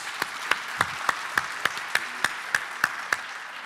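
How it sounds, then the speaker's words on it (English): An audience at a startup pitch event claps in unison, sharp synchronized beats landing at a quick, steady rhythm about three per second, about a dozen in all. "A lot of claps you want."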